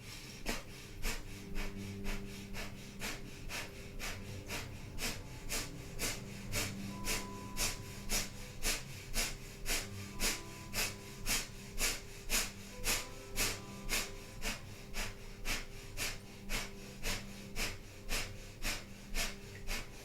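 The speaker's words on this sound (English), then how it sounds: "we'll begin 3 minutes of breath of fire here, pumping the navel, panting like a dog through the nose" Breath of fire in a Kundalini yoga class: rapid, evenly paced panting breaths pumped through the nose, a steady rhythm of about two to three sharp breaths per second that runs close and unbroken for the whole stretch.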